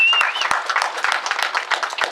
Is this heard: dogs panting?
no